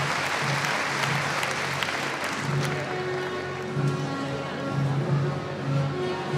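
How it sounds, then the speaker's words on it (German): An audience in the grandstand at a stallion show applauding, with steady dense clapping from a large crowd while an announcer's voice carries over it and a low hum murmurs underneath. "Und zwar mit einem großen Applaus"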